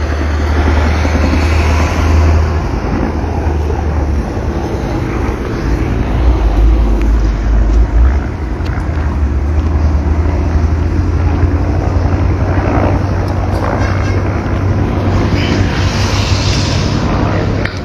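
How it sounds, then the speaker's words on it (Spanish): Helicopters flying overhead along a road near San Lorenzo during a police operation, a loud continuous rumbling drone that holds steady throughout, with faint background noise mixed in. "Ahí podemos observar los helicópteros."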